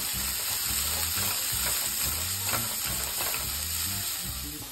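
Goat meat roasting in a hot pan while being stirred, a steady loud sizzle and frying crackle with scraping strokes throughout, no talk.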